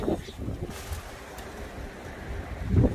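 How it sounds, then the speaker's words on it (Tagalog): Strong wind on Jeju blows in as a low, rumbling buffet across the microphone, gusting louder at the start and end with a steady rush between. "Malakas-lakas na yung hangin."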